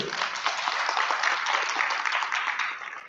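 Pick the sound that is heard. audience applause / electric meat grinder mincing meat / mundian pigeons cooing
audience applause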